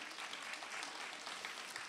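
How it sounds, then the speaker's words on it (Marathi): An audience claps together in a dense, steady burst of applause at a dance-for-health program, fairly faint and continuous, with no voices over it. "जोरदार टाळ्या होऊन दे"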